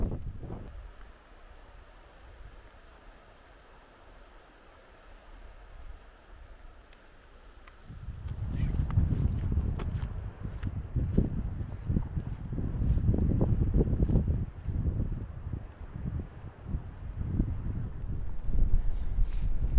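Wind gusts buffeting the microphone in a Scottish glen at Glen Affric, a soft rush for the first seconds, then heavier, louder low rumbling bursts from about eight seconds on, with no talk.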